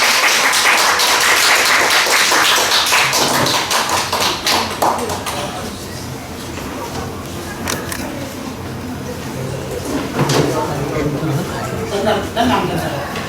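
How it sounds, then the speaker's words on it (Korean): A seated audience greets a lecturer, a human rights and women's and LGBTQ activist, at a community gender-equality talk with a loud burst of clapping that thins out after about five seconds while people talk over the tail. "박수로 맞아주시기 바랍니다"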